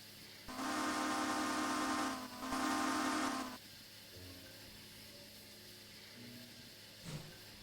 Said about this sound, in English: Train is leaving now.